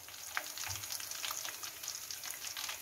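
Jackfruit chips frying in hot oil during Kerala-style chip making, a steady dense sizzle with small crackling pops throughout, close and alone with no voices.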